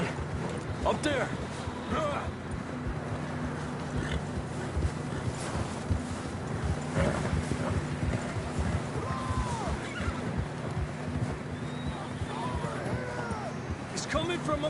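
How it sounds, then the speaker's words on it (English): Horses in Red Dead Redemption 2 moving over rough ground: a continuous bed of hoof thuds and clattering with occasional whinnies, set against wind and outdoor ambience, while people talk over it throughout. "I don't think we can go much further on the horses."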